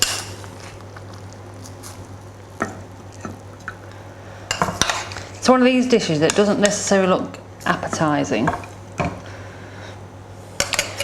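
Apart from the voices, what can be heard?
plates and cutlery while serving a sausage chickpea bake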